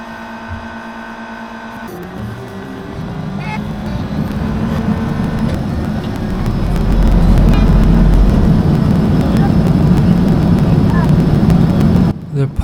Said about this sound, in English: The pilots started the engines and we got going for a long taxi to the other side of the bay